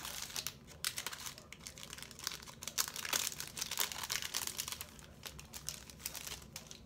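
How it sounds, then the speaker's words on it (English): A makeup brush is unwrapped from its crinkly plastic packaging, with close, continuous crumpling and tearing rustles that come in irregular bursts and carry no talking. "Let me take this one out of the packaging."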